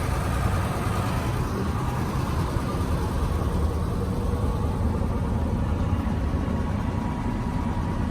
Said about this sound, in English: See, it starts up quiet as can be. Just hear that engine. How quiet it is.